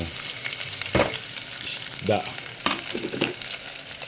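Aromatics are sautéed in a pan, a continuous close sizzle broken by a few sharp scrapes and clatters of a utensil stirring, with no voices.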